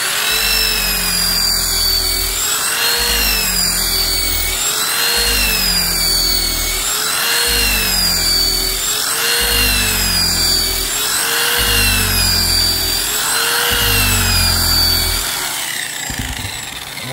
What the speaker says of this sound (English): And now we're going to move to our 220 wheel.